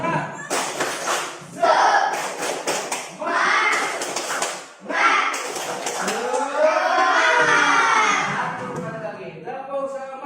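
Fifth-grade schoolchildren in class clap in bursts and shout together in a rhythmic spirit cheer, loud and lively, with rising chanted voices.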